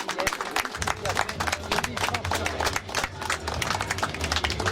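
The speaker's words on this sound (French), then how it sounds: "on va l'applaudir très fort" An audience applauds at an outdoor medal ceremony, giving dense, sustained clapping that stays loud and even throughout, with a low crowd murmur beneath it.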